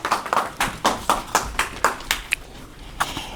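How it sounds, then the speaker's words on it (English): Handclapping at a political gathering in Manchester, a series of sharp, fairly evenly spaced claps from a few people, moderately close and fading after a few seconds. "Please clap your hands."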